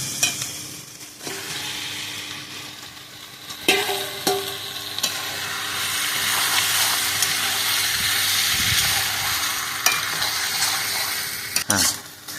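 Marinated mutton stirred and frying in hot spiced oil for khashir mangsho, a steady sizzle with occasional scraping clatters of the spoon against the pan, close and continuous, with a voice speaking briefly.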